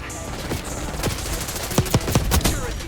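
Automatic gunfire from the shooter game Call of Duty Black Ops 6 crackles in quick uneven bursts, several sharp shots standing out over a dense, busy game mix.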